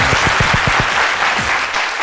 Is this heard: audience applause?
yes